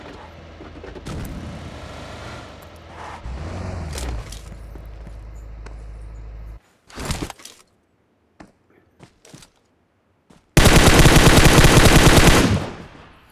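Gunfire in the mobile battle-royale game PUBG Mobile: scattered single shots and short bursts amid game ambience, then a loud, sustained automatic burst near the end.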